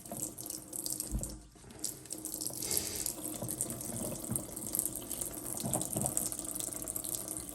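Running tap water rinses a filter part from a Miele W1 washing machine, a steady close splash and gush that continues without a break.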